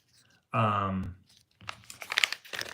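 A blade slices through crinkly plastic packaging, followed by rustling and crackling as the wrapper is torn and handled nearby; a voice briefly sounds beforehand.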